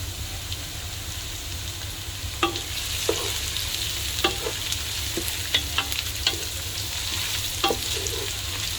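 Chicken fries with garlic and ginger in a hot pan, a steady close sizzle with occasional scraping stirs and light clinks of the utensil against the pan, no talking.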